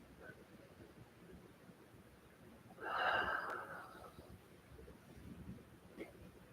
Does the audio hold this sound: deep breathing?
yes